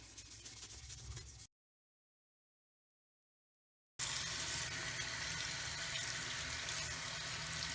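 A stainless steel tumbler is washed with dishwashing soap under running tap water, a close steady rush and rubbing of water that breaks off into a silent gap before resuming louder.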